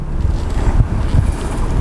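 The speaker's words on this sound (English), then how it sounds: "I actually could hear the turbo start spooling up" 2018 Ford F250 pickup truck accelerating hard, a dense low engine roar with rising turbo spool rumble, steady and close with wind buffeting throughout.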